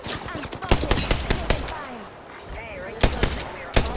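Bursts of video game gunfire crack out in rapid clusters of loud shots, pausing midway and then resuming, while players talk over the shooting during a ranked match.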